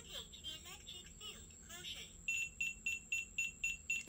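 An ANENG VC1019 non-contact voltage detector sounds a rapid series of short, high electronic beeps in an even rhythm, following a stretch where someone talks.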